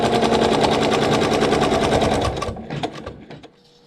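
An embroidery machine stitches placement stitches in fabric with a loud, fast, rhythmic needle clatter close by, then slows into a few scattered stitches and stops.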